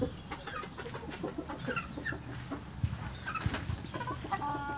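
Chickens clucking nearby in a busy yard, a steady scatter of short clucks and calls at moderate level with no talk.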